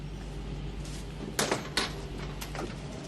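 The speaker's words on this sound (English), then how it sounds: "Close the door, please, James." A door on board a warship is shut with two sharp knocks of contact and a softer rattle afterward, close by, over a low steady hum and no talk.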